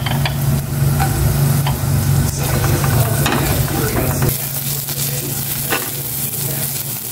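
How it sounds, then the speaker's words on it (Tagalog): Kangkong and onion stir-frying in a pan: a steady, close sizzle with scraping stir strokes throughout, louder in the first half and then settling slightly quieter. "para maluto ko na itong kangkong. Lagay ko na rin itong sibuyas."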